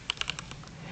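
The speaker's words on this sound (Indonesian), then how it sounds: "dengan kita mengetik" Quick clicks of typing on a computer keyboard, about half a dozen crisp keystrokes in a brief uneven burst, close and alone with no talk.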